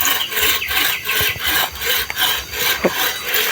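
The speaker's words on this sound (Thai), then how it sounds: "เลื่อยไม้เนาะ" Wood being sawn by hand, a steady back-and-forth rasp of the blade with regular strokes, close and fairly loud with no talking.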